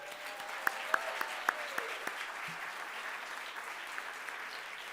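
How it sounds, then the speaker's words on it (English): A fairly quiet room of attendees at a Columbus Metropolitan Club forum applauding the panelists, soft steady clapping with a few louder nearby claps standing out early on. "Give them a round of applause"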